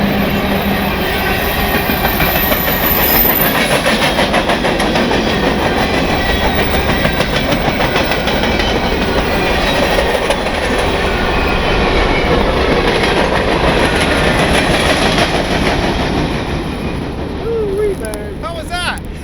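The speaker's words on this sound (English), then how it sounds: "Also, because there's a train." A train rolls past close by, its rail cars giving a continuous loud clickety-clack that holds for the whole stretch, with brief wheel squeal near the end.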